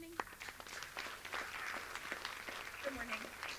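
Scattered applause from the audience at a city council candidate forum, faint and thin, heard under a voice speaking.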